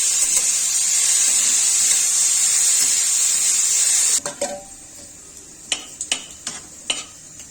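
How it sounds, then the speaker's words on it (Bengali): Turmeric frying lightly in a pan for a potato and small-fish curry gives a steady close sizzle for about four seconds, then drops to quieter crackle broken by a few sharp utensil clinks and stirs. "সামান্য হলুদ, হালকা করে ভেজে নিব।"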